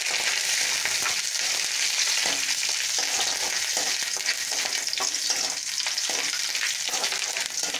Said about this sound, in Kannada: ಕಡಲೆಬೇಳೆ ಫ್ರೈ ಆಗಲಿ